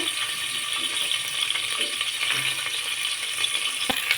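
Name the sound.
onion and green chilli frying in a pan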